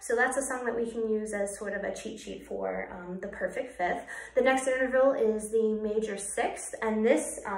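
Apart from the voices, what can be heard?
No distinct noise like a dog, phone or traffic.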